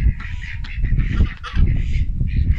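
A small flock of farmyard geese honks repeatedly in loud, overlapping calls close by, with ducks kept in the same yard; the cackling runs continuously throughout with no talk.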